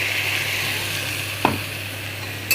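Tomato purée sizzles in spices in a pan, a faint, steady frying hiss with one brief stir or clatter in the middle and another near the end.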